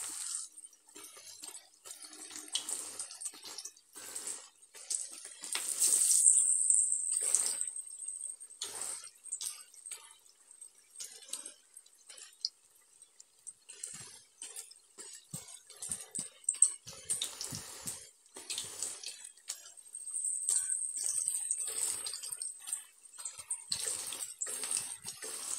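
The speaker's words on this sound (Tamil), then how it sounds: "எண்ணெய் நல்லா காஞ்சதுனால நல்லா பொரிஞ்சு வருது." Masala vada fry in hot oil with a steady, close sizzle and crackle that swells and fades over a long stretch, with no talking.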